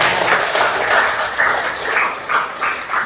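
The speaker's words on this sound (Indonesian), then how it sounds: "Oke, tepuk tangan untuk Tuayu." Clapping from students in a classroom, a fairly loud, uneven patter of hands that swells and dips over a few seconds, with no talking.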